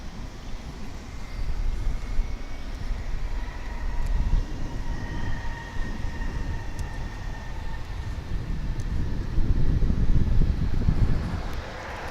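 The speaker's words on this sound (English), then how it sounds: "So here goes the flight to Oklahoma City" A plane departing DFW International Airport, likely the flight to Oklahoma City, sends a broad, distant jet rumble that swells and fades, with wind buffeting the microphone.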